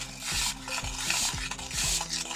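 A homemade bath bomb mixture is stirred and pressed, giving a steady gritty scraping with rhythmic rubbing strokes about every half second, close and fairly loud, with no talking.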